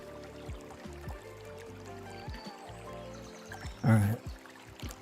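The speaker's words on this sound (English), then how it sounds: "Slosh it around a bit." Water sloshes around inside a container of thick, spicy sauce, a soft pouring swirl that ends in one louder splashy surge near the end.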